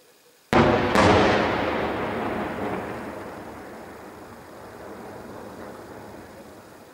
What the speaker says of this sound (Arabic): قصف عنيف من جبال المعظمية يستهدف فساتين شرقية من دارية